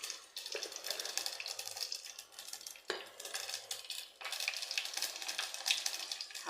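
Garlic hits hot oil already holding mustard seeds and cumin, giving a quiet, hissing sizzle. Metal clinks and stirring break it into uneven bursts, and the whole sound stays faint and close without speech.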